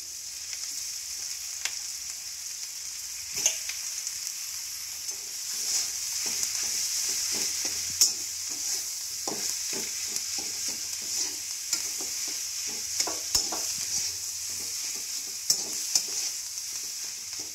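Boiled potato filling for dosa, with green chilli, turmeric and salt, cooking in a pan: a continuous sizzle under repeated scraping and clinking stirs of a spoon, irregular and close.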